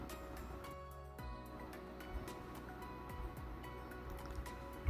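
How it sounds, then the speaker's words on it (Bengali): Green bean tikki patties shallow-fry in a little oil on a flat griddle, giving a quiet, steady sizzle scattered with small pops and crackles. "এইভাবে অল্প পরিমাণ তেল দিয়ে এগুলোকে ভেজে নিতে পারেন"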